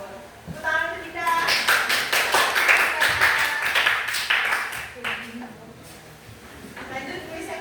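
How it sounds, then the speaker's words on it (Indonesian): Hand clapping from a group of high school students in a classroom lesson, a short burst of quick claps that rises and fades, with voices talking around it. "Tepuk tangan untuk kita."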